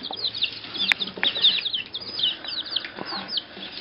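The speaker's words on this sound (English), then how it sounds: "that's the chickens eating a worm here at Highland" Young chicks eating live worms chirp in a steady, busy stream of high peeps close by, mixed with quick pecking and scuffling clicks as they compete for the food.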